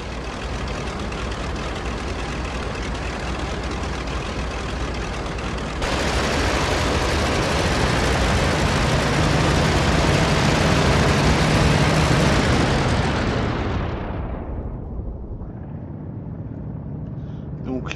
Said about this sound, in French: je vais larguer mes roquettes et donc sur le convoi et puis finir ça à la mitrailleuse